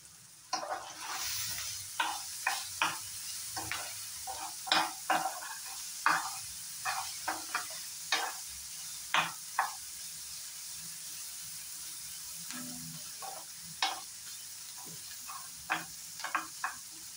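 Crushed garlic, ginger and a little fried spice sizzling in a pan without oil for a chicken dish, with a soft steady hiss broken by frequent scraping stirs at irregular intervals.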